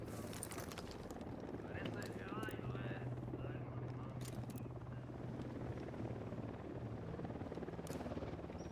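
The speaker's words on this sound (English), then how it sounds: "We got a chopper." A helicopter in a video game flies overhead with a continuous low rotor thrum. It is steady and moderately quiet, with occasional brief game sound effects.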